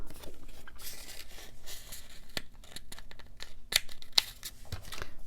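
Banner paper is cut with scissors in a quiet room, giving short crisp snips and rustles of paper, with a couple of sharper clicks partway through.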